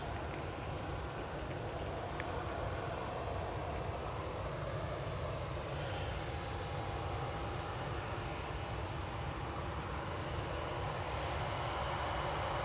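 EasyJet airliner departing for Malta, a distant steady jet engine roar from the runway that holds at an even, broad rumble throughout with no talking.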